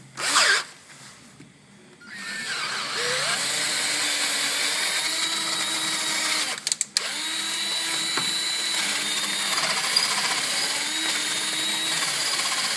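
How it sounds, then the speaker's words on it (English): A power drill fitted with an 11/32 bit enlarges a damaged thread hole, holding a continuous, even drilling drone for about ten seconds with one brief break near the middle. "Make sure you drill as straight as you can."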